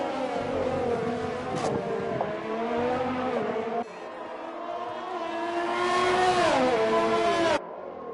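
Race cars lapping Suzuka's hairpin in a sim racing game, engines revving loud and close with rising and falling pitch as they brake and accelerate, one car following another through the corner.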